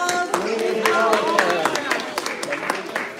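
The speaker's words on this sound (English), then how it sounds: "Let's give them a huge round of applause" Applause at a synagogue Tu Bishvat seder service: brief, close clapping from a small congregation, sharp irregular claps over a murmur of voices and cheering.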